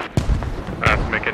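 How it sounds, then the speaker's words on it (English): Artillery shells strike in the video game Squad, a sharp close blast followed by rumbling impacts and further bursts, with a voice speaking over part of it. "I'm just gonna throw artillery on them"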